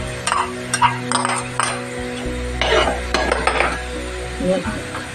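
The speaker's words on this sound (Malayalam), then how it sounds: "ഇത് നന്നായിട്ടൊന്ന് ഇളക്കുക നന്നായിട്ട് ഇളക്കിയിട്ട്" Clam thoran being stirred in a pan: a few close scraping and clinking spoon strokes against the pan with a light sizzle underneath, short and moderately loud, with no talk.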